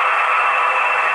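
Air compressor sound from a model SU42 locomotive's sound decoder, a loud, steady hissing whir with no breaks, heard up close for about a second.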